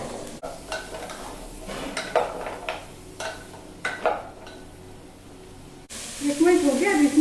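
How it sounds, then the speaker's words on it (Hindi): Fresh green peas and vegetables sautéing in a pan for veg pulao: a steady sizzle with repeated scraping and stirring of a spatula against the pan, under a person talking. "और फ्रेश हरे मटर, सबको और 1 मिनट भूनेंगे।"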